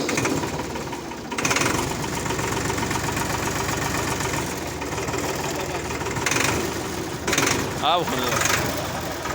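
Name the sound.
Massey Ferguson 260 turbo tractor engine idling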